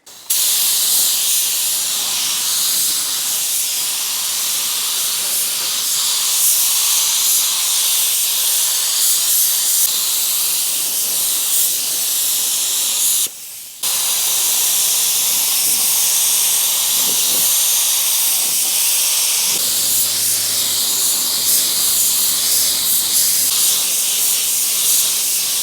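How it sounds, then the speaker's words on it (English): A spray can of primer hisses steadily and loudly while coating a Mitsubishi Evo 8, for a long stretch, with one brief pause midway before the spraying resumes. "spray primer."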